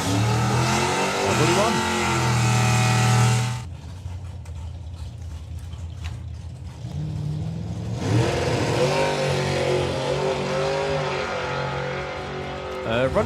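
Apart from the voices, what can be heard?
drag racing car making a run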